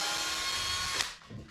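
A power drill bores through a wooden board, a steady whining buzz that stops abruptly, followed by a brief clatter of handling.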